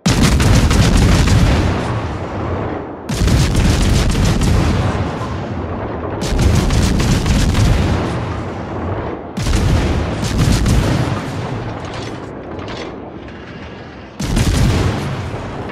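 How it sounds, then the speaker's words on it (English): Warship gunfire in the naval battle game World of Warships, loud booming salvos that roll on for several seconds each, five heavy volleys in a row separated by brief gaps. "Concentrate fire on the enemy warship."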